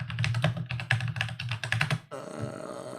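Rapid clattering keystrokes on a mechanical keyboard, close and fairly loud, in a quick irregular burst for about two seconds before giving way to a steady tonal background.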